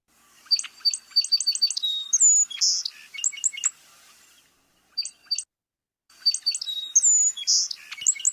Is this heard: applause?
no